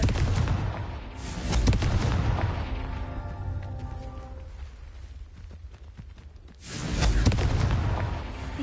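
Confringo blasting spell explosions in the video game Hogwarts Legacy, loud booming blasts with a long rumbling decay, a big burst at the start and another near the end, with quieter crackles between.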